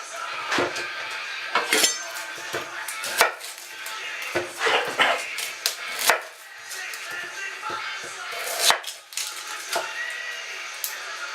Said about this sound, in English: now peel and roughly chop 2 medium onions